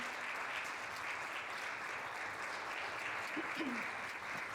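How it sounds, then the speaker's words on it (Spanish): A church congregation applauds during a Sunday service, steady broadband clapping holding evenly throughout with a faint voice rising near the end. "le voy a pedir un aplauso para el Señor"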